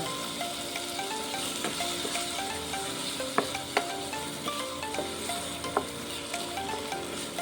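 Chopped tomatoes frying in hot oil in a pan for an eggplant curry, giving a steady close sizzle with occasional sharp clicks and scrapes from stirring.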